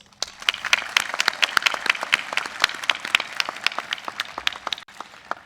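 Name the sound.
graduation audience applause for valedictorians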